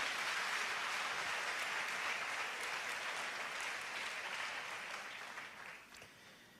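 Church congregation applauding after a sermon, a sustained crackling wash of many clapping hands, steady and fairly distant, slowly fading near the end.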